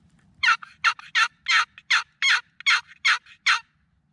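A wild turkey in Missouri woods during spring hunting gives a run of about nine sharp, evenly spaced calls in quick succession, clear and fairly close against a quiet background.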